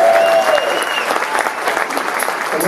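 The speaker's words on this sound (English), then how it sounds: "So let's hear it for those guys, Art" Steady applause with some cheering comes from a concert audience at City Winery in New York, a dense wash of clapping from the crowd held at full strength for the whole stretch.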